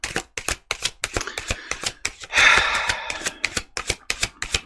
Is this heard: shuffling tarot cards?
yes